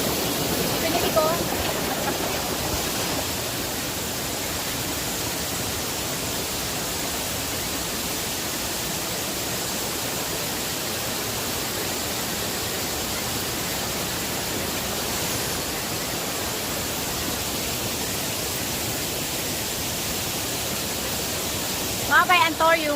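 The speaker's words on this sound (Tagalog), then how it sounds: "Mabay Antorium Waterfall." Anthurium Falls in Famy, Laguna, roaring as a steady, loud, broadband wash of falling water throughout, with brief voices near the start and end.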